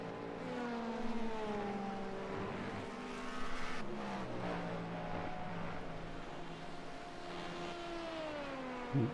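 Acura hypercar racing engine in an IMSA racing video game: a sustained high engine whine with pitch rising and falling through gear changes, other cars passing around it, steady and fairly loud with no talk.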